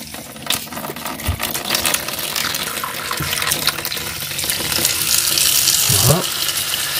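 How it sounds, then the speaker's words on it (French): Tap water runs steadily from a faucet in a camper van, a continuous close hiss and gush with brief clinks and handling sounds over it, and a slight shift in the flow near the end. "Ça, c'est de l'eau du robinet. Je la fais couler"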